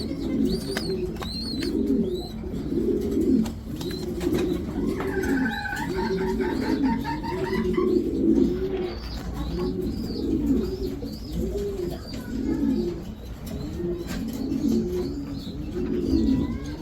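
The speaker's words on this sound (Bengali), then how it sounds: "বড় সাইজের এক জোড়া কবুতর, বড় সাইজের।" Racer pigeons cooing steadily in a loft, with repeated low throaty coos in a continuous rhythm and a few higher chirps from other birds in the background.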